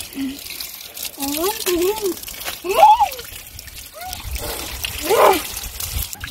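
Cold water splashes and trickles over two muddy children, aged four and seven, being rinsed outdoors, with intermittent splashing under frequent children's squeals and an adult's voice.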